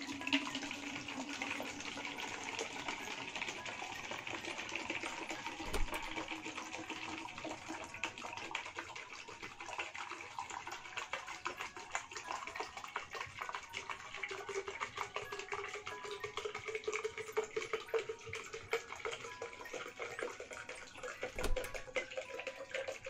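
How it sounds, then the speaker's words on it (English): Water runs from a tap into a plastic bottle, giving a steady hissing splash that continues at moderate volume, with a faint rising tone as the bottle fills and a couple of soft knocks. "I will fill my plastic bottle with some water."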